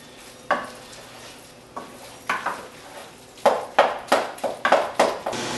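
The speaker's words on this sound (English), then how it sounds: "So you're just going to mix this in, just kind of chop it up like you would do" Ground turkey is stirred and chopped in a pan with a utensil, giving sharp repeated scraping strikes that quicken toward the end over a faint background sizzle, close up.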